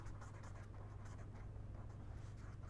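Writing during an energy economics lecture: a steady, faint scratchy rustle of strokes under a constant low hum from the room, with no talk while the writing goes on.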